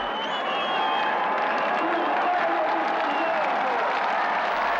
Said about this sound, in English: To the cheers of the crowd